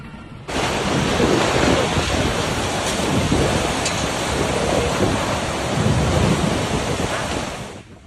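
Typhoon Kajiki storm battering Hainan, with a loud, steady roar of howling wind and driving rain that starts abruptly and holds at full force for several seconds before easing off at the end.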